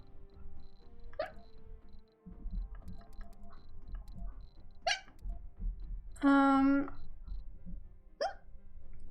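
A single loud, high-pitched hiccup sound effect from the city-building game Surviving Mars rings out clearly near the middle, with a low hum and soft clicks around it.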